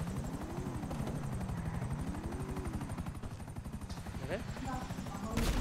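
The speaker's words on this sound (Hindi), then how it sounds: "हेलीकॉप्टर की आवाज कहाँ से आ रहा है?" Helicopter in Grand Theft Auto V thunders overhead with a steady, rapid rotor chop and wavering engine whine, loud and continuous, while bursts of gunfire crackle and a player exclaims briefly.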